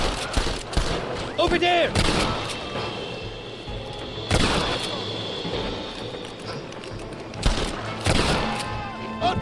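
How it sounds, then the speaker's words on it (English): Enemy gunfire in the Red Dead Redemption video game, repeated loud bursts of shots and volleys spread across the scene, mixed with shouted voices and ambient game sound. "They're shooting down on us!"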